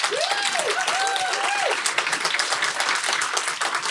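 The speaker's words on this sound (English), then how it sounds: "could you just give a round of applause for our 2023-24 Board of Directors for NSA Georgia?" Sustained applause from an audience at an NSA Georgia stage event honoring the 2023-24 Board of Directors, many hands clapping steadily with a few cheering whoops rising above the crowd.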